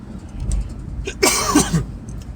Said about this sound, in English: the coughs are my asthma